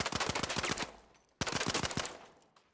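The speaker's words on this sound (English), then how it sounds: "this is the comparison with the V9S shooting it." A V9S gun fires in a video game in two rapid automatic bursts of loud, close shots, the first trailing off before a brief pause and the second starting abruptly.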